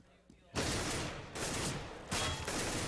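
Bursts of automatic rifle fire in CS:GO as a player scores a kill, three loud, dense volleys back to back after a quiet opening, under a commentator's voice.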